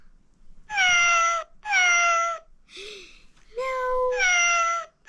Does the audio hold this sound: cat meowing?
yes